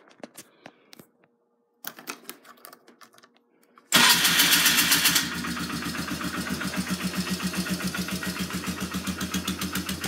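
A 2003 Polaris Trail Boss 330 ATV, a few clicks and cranking, then the engine catches loudly and settles into a steady, close, rhythmic idle.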